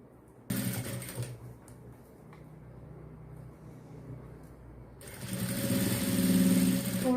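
A sewing machine runs in short bursts while stitching a fabric strip around a blouse neckline, its motor whirring up loudly, falling to a quieter hum between runs, then starting again, with no one speaking.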